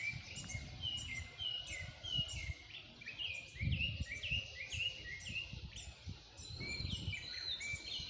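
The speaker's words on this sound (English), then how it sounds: "enjoying just the birds singing in the morning" Birds singing outdoors at six in the morning, many overlapping chirps and whistled phrases repeating at a moderate distance over a low, rumbling background.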